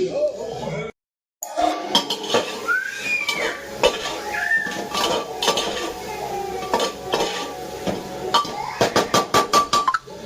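Pots, pans and utensils clatter and clink in a home kitchen while vegetables are cooked, with bursts of rapid metallic clinking near the end and talk running through.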